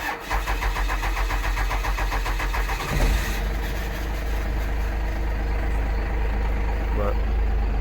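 A Cummins diesel dump truck engine fires up and settles into a loud, rough, steady idle close by, with a person speaking faintly over the rumble.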